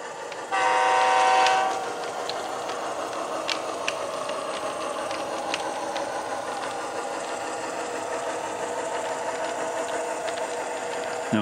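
A short, loud train horn blast in a train simulator game at the start gives way to the steady rumble and clatter of a moving train.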